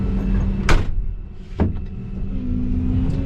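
A bulldozer cab door is shut while land is being cleared and burned, giving two sharp, close thumps about a second apart over a low, steady engine hum.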